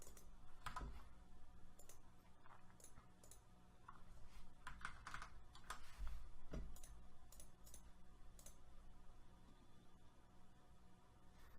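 Computer keyboard keys and a mouse clicked rapidly during a gaming stream, a steady run of close, crisp taps and clusters of clicks over a low background hum, with no voices.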